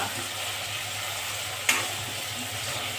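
Tomato being sautéed for chole curry makes a soft, steady sizzle close by, with one sharp clink of a utensil partway through and no talk.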